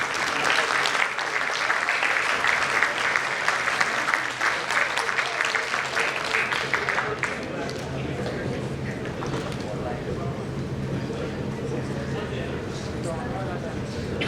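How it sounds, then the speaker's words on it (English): An audience claps loudly for several seconds after a panel discussion, then the applause thins into a softer patter mixed with voices. "A big round of applause, please, everyone."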